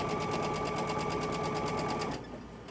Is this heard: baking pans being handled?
no